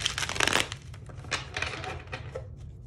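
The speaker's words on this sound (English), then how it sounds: "It's a solid shuffle." Tarot cards are shuffled close by in a series of quick riffling, rustling bursts, loudest at the start and then coming in softer, uneven handfuls.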